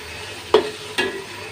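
Ginger paste and onion leaves frying in mustard oil for chicken biryani, with a hiss under a steady background and two brief scraping stirs about half a second apart.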